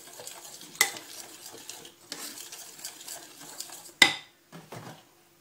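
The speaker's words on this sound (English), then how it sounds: "and mix it again" Chocolate mousse being mixed with cream, a spoon scraping and clinking against the bowl in uneven close strokes, with a sharp knock partway through and brief pauses.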